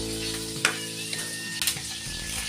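Squid adobo sizzles steadily in a pan while being stirred, with a couple of sharp scraping clatters from the utensil against the pan over the continuous frying hiss.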